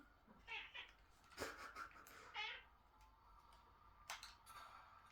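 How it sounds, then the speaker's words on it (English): A house cat meows several times indoors, close and quiet, with soft breaths and small noises between the calls. "No wonder you're coming in here meowing your head off."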